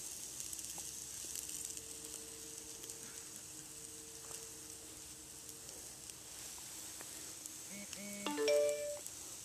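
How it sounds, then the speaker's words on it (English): A phone rings briefly near the end of a quiet stretch with faint background hiss, a short electronic trill from across the room while someone works with cotton mop string. "Sorry about the phone there, guys."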